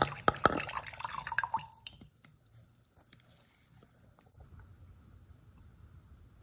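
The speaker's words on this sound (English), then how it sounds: "See it bubbling and starting to dissolve." Limestone dissolving in vinegar: scattered small drips and faint liquid fizzing, quiet and close, with a louder splashy burst at the start before it settles into soft crackling.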